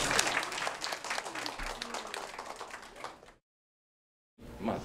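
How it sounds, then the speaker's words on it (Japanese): Audience at a training session for local welfare volunteers on assisting visually impaired people, applauding a guide dog demonstration aboard a train setup; dense, close clapping for about three seconds, then a brief silence before it resumes. "拍手。"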